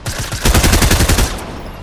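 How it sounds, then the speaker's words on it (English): Rapid automatic gunfire in the Fortnite battle royale video game, aimed at shooting down a supply drop, fires as a loud, dense burst of evenly spaced shots lasting about a second before trailing off. "Let me shoot the supply drop down."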